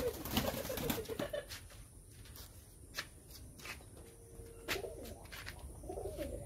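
A half lakka pigeon cooing in low, rolling bursts, close by, with faint rustling and shuffling between calls.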